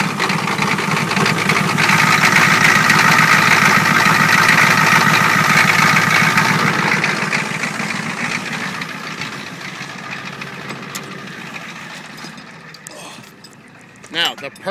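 A large diesel engine, started with ether, runs loudly with a steady low rumble for several seconds, then fades to a quieter idle with faint clatter near the end.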